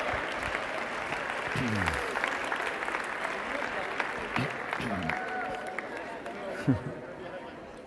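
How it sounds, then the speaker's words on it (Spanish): Applause from a seated audience at a session continues at a moderate level as it winds down, with murmured voices and shuffling movement mixed in. "Damos el aplauso, por favor"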